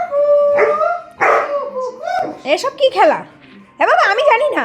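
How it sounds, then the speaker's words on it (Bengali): A dog near a house barks and yelps in short, whining bursts, mixed with people talking close by. "আমাদের বাড়িতে কুকুর কোথার দিয়ে ডাকছে আবার"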